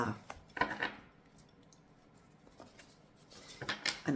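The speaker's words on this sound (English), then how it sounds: "I do break it in sections and then just maniacally shuffle every section together" Cards riffle and slap together in quick bursts, crisp and close, with a quiet pause between shuffles.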